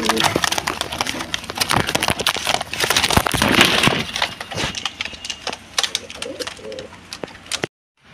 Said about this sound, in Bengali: এখানে কিন্তু খুবই সুন্দর আরেক জোড়া কবুতর আছে